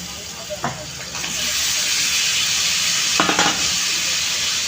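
Washed chicken pieces hit a pan of cooked-down spices in oil for a chicken curry with papaya, a steady sizzle and frying hiss rising after a couple of clacks of stirring.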